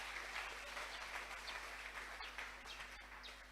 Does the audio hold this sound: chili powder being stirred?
no